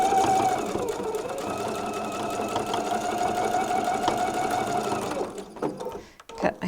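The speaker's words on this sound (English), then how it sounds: "And back stitch all the way across." Sewing machine running steadily while back stitching a seam across a tote bag, a continuous close motor whir that stops near the end, with soft handling noises after.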